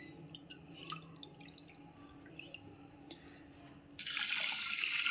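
Jeera rice being washed in water in a kitchen, with soft drips and small splashes at first, then a steady loud rush of tap water filling the vessel for the last second, no talk.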